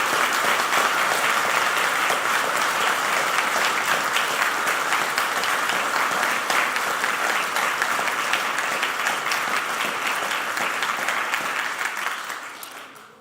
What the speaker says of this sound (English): could we give a huge round of applause to all the candidates tonight?